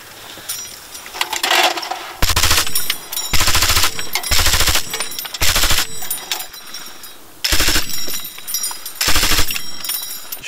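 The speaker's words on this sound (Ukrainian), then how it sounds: "І от зараз ви бачили, працювали з кулемета." A machine gun fires from a front-line trench near Bakhmut in several loud, close bursts of rapid shots separated by short pauses, with faint background noise between them.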